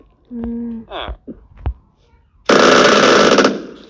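Rapid machine gun fire from a zombie video game, a dense loud burst of about a second following a few scattered game sounds and voice-like tones.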